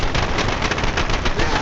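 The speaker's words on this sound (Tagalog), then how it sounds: "Uy, sino nagpaputok?" Continuous dense gunfire in the zombie shooter Left 4 Dead 2 gives rapid overlapping shots and blasts in a loud, unbroken barrage, with no speech.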